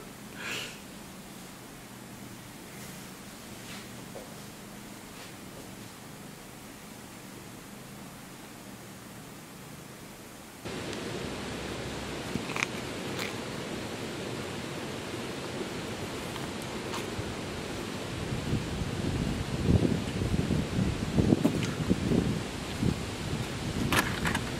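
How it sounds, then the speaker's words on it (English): Rushing mountain rivers in the Bavarian Alps make a steady broadband roar with no voices, growing noticeably louder and fuller partway through and staying loud to the end. "It's very loud here with these rivers."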